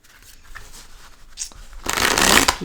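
A deck of cards being shuffled during a tarot reading, starting with faint handling and soft riffles, then a loud, dense riffling burst of close card flutter toward the end.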